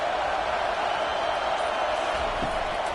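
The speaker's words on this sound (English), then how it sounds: "Decibels rising as the crowd gets behind this defense on 3rd down" A football stadium crowd at an FCS college game roars in a steady, dense wall of noise on third down, loud and unbroken throughout.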